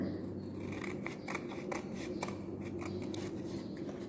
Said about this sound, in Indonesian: Kita gunting ya, ikuti garisnya.